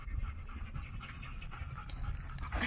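A large dog pants close by on a day hike, with a rapid, steady rhythm of breathy huffs that continues throughout.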